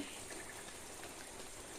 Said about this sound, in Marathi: पाऊस आला थोडं थोडंच येत आहे